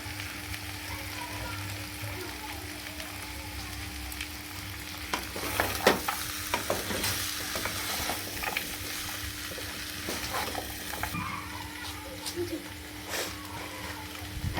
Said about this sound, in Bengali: ভালো করে নেড়ে নেব, একটু কষিয়ে নেব।